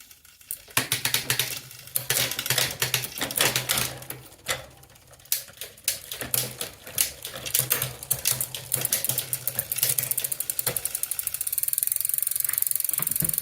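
A Shimano Acera rear derailleur shifts across a 9-speed bicycle cassette with rapid mechanical ticking and ratcheting clicks in uneven bursts, followed by a faster, even freewheel buzz near the end. All of it is close and clear.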